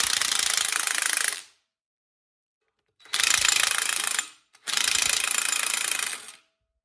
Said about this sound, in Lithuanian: Reikia atsukti vat štai tą veržliavą, ištraukti šitą varžtą